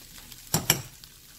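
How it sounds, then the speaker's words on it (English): Ground meat cooking in a pan with onion and garlic for keto meat pies, heard as a quiet sizzle with two sharp bursts of stirring or scraping in the middle, no voices. "So after adding the onion, okay, and cooking with the meat for about 2 minutes, I'm going to go ahead and add my garlic."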